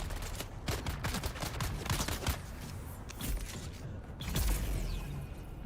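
Missile wand attacks in the video game Dune Awakening: a dense, continuous barrage of sharp cracking bursts and mechanical clatter, loud and unbroken throughout, with no voices heard.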